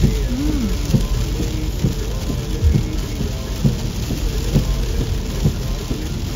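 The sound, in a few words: heavy rain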